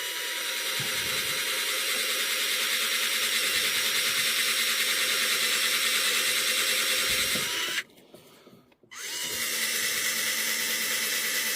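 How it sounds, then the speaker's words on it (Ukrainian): A power drill grinds steadily into a hard steel rail, a loud continuous whine that briefly stops and then restarts, with no voices. "нудне заняття свердлити цю рельсу"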